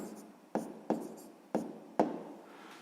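A pen writes numbers on paper during a sixth-grade math exercise, four crisp scratchy strokes in an uneven rhythm, each a sharp tap trailing into a brief scrape, quiet and close with no talk.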